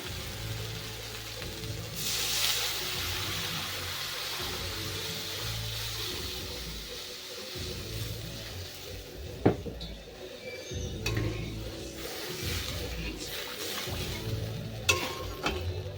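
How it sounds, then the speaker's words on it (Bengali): Water poured onto well-fried spice masala in a pan, followed by steady frying and the clatter of a spoon stirring against the pot, with occasional sharp metallic knocks. "এখন আমি এর ভেতরে জল দিয়ে দেব"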